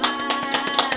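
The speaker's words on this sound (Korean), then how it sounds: "자 박수!" Several sharp taps of hand clapping in quick irregular succession, close and clear over a sustained musical tone, with no talking.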